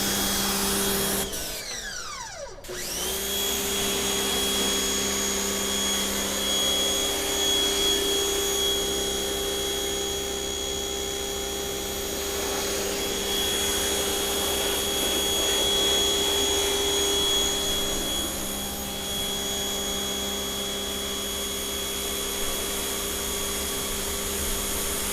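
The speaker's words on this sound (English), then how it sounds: "Now I'm going to use the pressure washer and rinse off all the soap." A pressure washer runs steadily to rinse soap off a Thor Sanctuary B-Class RV built on a Mercedes Sprinter van. A sharp start at the beginning gives way to a constant loud, close hiss and whine.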